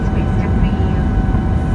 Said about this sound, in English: the flaps are now being retracted